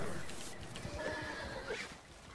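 A wild horse in Red Dead Redemption 2 whinnies in a rising, drawn-out neigh over a steady wash of background noise, with a shorter snort-like call near the end.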